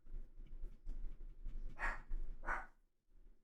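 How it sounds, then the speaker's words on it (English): A dog barks twice in quick succession, somewhat distant and muffled as if from another room, over a low indoor background hum. "My dog is barking."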